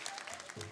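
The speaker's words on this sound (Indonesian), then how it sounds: "Boleh beri tepuk tangan dulu dong buat Delo Dalang" Brief burst of audience applause at a Balinese village quiz show in Tabanan, a dense wash of many hands clapping at steady volume for under a second.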